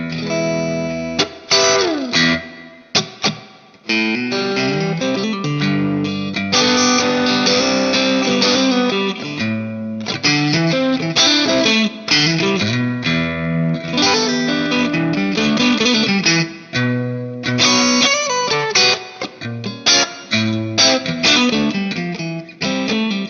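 Electric guitar with Fender Texas Special pickups, neck and middle pickups selected and tone fully up, plays a chordal, melodic passage with a bright, clean-to-slightly-driven tone, sustained notes and strums throughout, loud and close.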